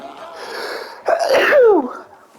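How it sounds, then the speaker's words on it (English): A single loud sneeze from a character in the video game Dying Light 2: Stay Human, a quiet breathy wind-up followed by a sharp, wheezy burst up close. "I'm about to sneeze."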